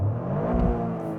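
A 2023 Toyota GR Corolla engine revs hard toward redline, a loud, sustained mechanical drone that swells and climbs steadily with no speech over it.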